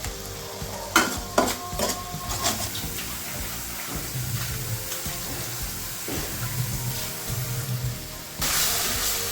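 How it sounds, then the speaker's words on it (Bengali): A spice masala sautés in a pan before fish and eggplant are added, giving a steady low frying hiss broken by intermittent stirring scrapes and clinks close by. "মশলাটা ভালোভাবে কষানো হয়ে গেছে"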